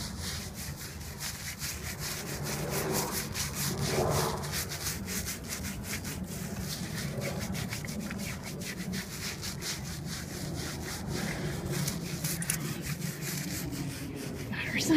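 A Staffordshire Bull Terrier's fur is shampooed during a bath, a close, continuous rhythmic rubbing and scrubbing of wet fur that repeats steadily throughout with brief soft sounds.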